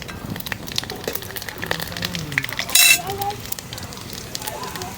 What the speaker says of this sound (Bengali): তেল গরম হয়ে গেছে, এখন 2টা তেজপাতা আর 5 ফোড়ন দিয়ে দেব।